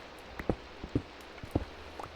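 Rain falling in Minecraft with the Enigmatica 2 Expert modpack, heard as sparse, irregular soft taps and drips over a quiet background, fairly faint and without talk.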